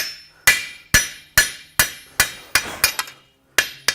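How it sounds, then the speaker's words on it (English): A blacksmith's hammer strikes hot metal on an anvil while forging and spreading a piece, about ten sharp ringing blows in a mostly steady rhythm with one brief pause, close and loud. "you can come in with the hammer and make it nice and straight, smooth"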